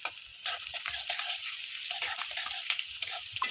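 Pumpkin fries in oil in a pan, a close, steady sizzle broken by repeated scraping strokes of stirring at an uneven rhythm, with no one speaking.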